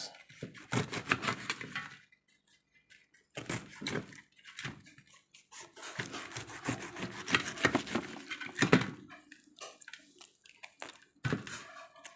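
A knife peeling and cutting a pineapple, heard as close scraping and rasping strokes in bursts separated by short pauses.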